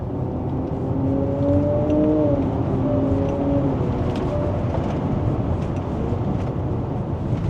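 A Porsche Cayman engine in second gear just after a downshift, heard from inside the cabin as a loud, steady drone with a tonal whine that rises briefly and then settles.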